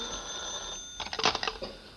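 An old-fashioned telephone bell ringing indoors in a 1950s family sitcom home, a short burst of rapid clattering rings following a steady electronic tone, fairly close and loud, with no talk.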